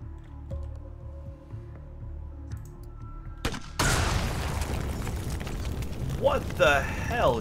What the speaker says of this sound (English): the grenade just blew up within the arming distance of the